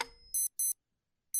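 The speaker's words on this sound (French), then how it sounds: "L'horaire du réveil qui sonne, c'est 7h moins le quart." Electronic alarm clock ringing in bright, evenly pitched beep bursts, two close together and a third after a gap, clear and isolated against silence after a brief fading noise.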